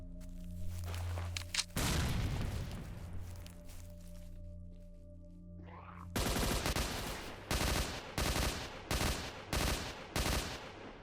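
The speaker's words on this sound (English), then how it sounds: "That sounds like a sniper rifle or something." Sniper rifle gunshots in S.T.A.L.K.E.R. OGSE, a loud crack followed by a quiet stretch, then a rapid run of sharp, evenly spaced reports over a low ambient hum.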